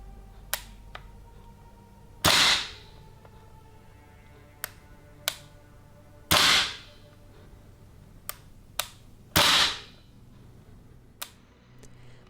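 Trigger pulls and action of a VFC MP5 gas blowback airsoft SMG, sharp isolated clicks scattered over quiet, broken by three louder snapping clacks with a short hiss-like tail.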